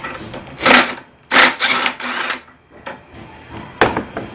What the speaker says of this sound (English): There's 2 3/8 bolts here. Just take those guys off.